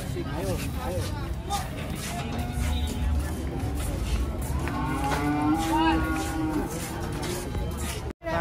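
Cattle low repeatedly outdoors, giving several drawn-out moos that rise and fall over a busy background. People talk nearby throughout.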